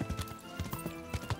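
Horse hooves clip-clop in a rapid, even rhythm in the video game Kingdom Come: Deliverance, the quiet clattering steps close and continuous over a brief stretch.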